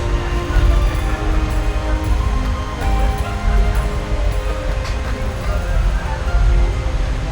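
A train stands at Rameswaram station, a Rameswaram express among them, giving a steady loud rumble of rail noise and low mechanical hum throughout, with a faint voice now and then.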